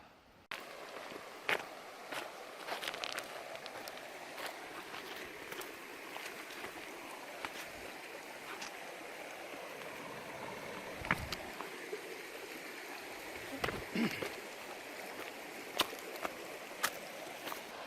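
Creek water runs steadily through a Vancouver Island rainforest while a hiker crosses, with scattered splashes, squishing steps and soft knocks over a continuous close gurgling flow.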